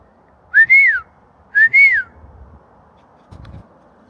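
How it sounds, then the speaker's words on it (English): Two clear rising-and-falling whistles, loud and close, outdoors in Banff in the Canadian Rockies, followed by a quiet pause and a faint thump. "Should give him a little whistle."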